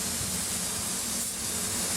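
A spray gun lets out a test burst of clear coat as one continuous, even hiss of compressed air and atomised paint with a low steady hum beneath, close and loud throughout.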